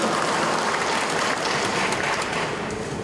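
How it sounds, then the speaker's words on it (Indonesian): An audience gives sustained applause for a regional government official at a West Papua public event, a dense continuous wash of clapping from many hands, steady and loud throughout. "ya kita bikin aplaus untuk beliau."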